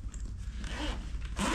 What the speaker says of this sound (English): And if you zip this down